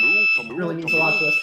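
A steady high electronic beep from a phone alert tied to a blood sugar sensor, running continuously under a person talking, with a short gap midway.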